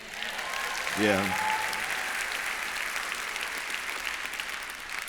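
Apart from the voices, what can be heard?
audience applause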